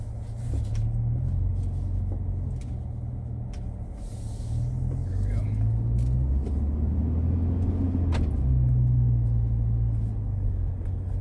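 A steady, low road rumble fills a moving car's cabin, with a continuous drone and a few faint knocks and clicks from inside.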